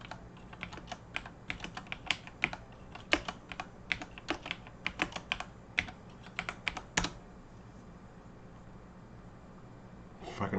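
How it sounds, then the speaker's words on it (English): Rapid bursts of typing on an ultra sensitive computer keyboard, crisp clustered keystrokes with short pauses over a low room hum, stopping near the end. "Fucking ultra sensitive keyboard"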